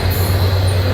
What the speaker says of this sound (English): And here's the CP, now CPKC holiday train.